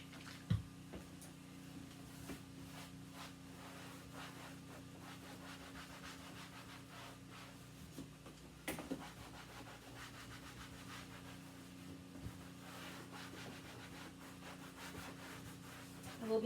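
Soft, steady rubbing of beeswax over painted vinyl chair upholstery, a low continuous scuffing friction that goes on quietly and close without pause.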